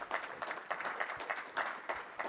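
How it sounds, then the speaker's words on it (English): A small conference audience gives a brief round of clapping for two presenters, quiet and a bit distant, with sparse, uneven bursts of hands rather than a full roar. "let's start with a quick round of applause for Marcus and Stu"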